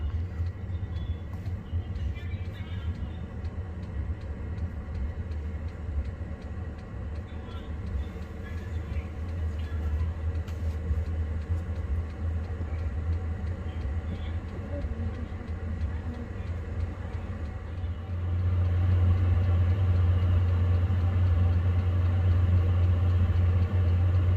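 A diesel heater runs with a steady low droning hum as it blows cool air, holding constant before growing noticeably louder and fuller toward the end.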